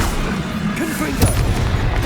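A Confringo explosion spell blasts in Hogwarts Legacy, one booming impact mid-clip over a dense, loud bed of game sound and music.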